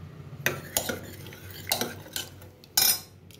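A spoon scrapes and knocks against a pot while mashed dal is stirred with salt, several distinct sharp clinks and scrapes spaced irregularly, close and fairly quiet with no talking.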